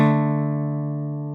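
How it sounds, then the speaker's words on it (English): A perfect fifth struck as one chord, a power chord with both notes ringing together from a bright attack and fading smoothly over about a second. "Also known as a power chord in guitar circles."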